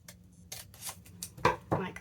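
Scissors snip along the crease of a paper bag, giving a few sharp, close cutting crunches in uneven bursts with light handling noise; a person speaks softly at times.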